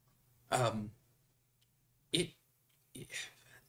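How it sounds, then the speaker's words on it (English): Coughing and throat clearing from a person trying to take a drink of water during a tabletop Dungeons & Dragons session: three short bursts, near and fairly loud, with a steady low hum beneath. "I'm kind of coughing, kind of trying to take a drink of water."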